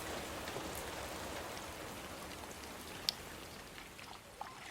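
Heavy rain pours down steadily in a rural area, a dense, even hiss with scattered louder drops, faint and without voices.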